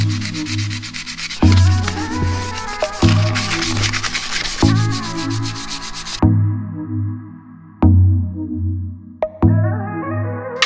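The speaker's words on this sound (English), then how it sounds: "I went ahead and got some 600 grit sandpaper" Rhythmic back-and-forth rubbing of 600-grit sandpaper on a BMX/skate helmet, loud and close, in repeated strokes broken by short pauses and a few clicks.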